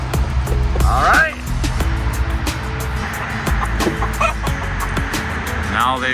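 Backyard chickens cluck in a scrap-built coop, with short soft clucks and a couple of louder calls over steady outdoor background noise, while a person talks nearby.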